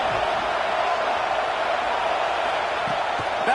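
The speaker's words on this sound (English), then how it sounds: "Listen to this crowd just shaking the girders of this place" A packed stadium crowd at a South Carolina versus Florida college football game roars in a sustained, loud, even wall of noise that never lets up, with a commentator's voice faintly beneath it.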